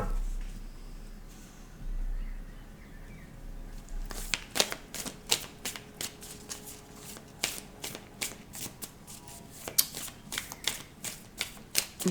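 Tarot cards are shuffled and drawn for a reading, starting with a few seconds of quiet handling and then a long run of crisp, rapid riffling snaps, close and steady.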